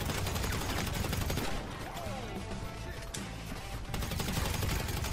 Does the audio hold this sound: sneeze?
no